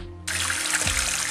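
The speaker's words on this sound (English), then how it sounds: "Open the water tap and check it on your hand and make it lukewarm water" Water runs steadily from a tap, a bright continuous hiss and trickle that starts abruptly and keeps flowing close by, with no voices.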